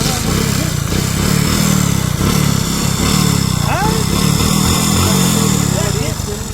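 A motorcycle engine runs steadily with a low, throbbing rumble that stays loud throughout, while people talk over it.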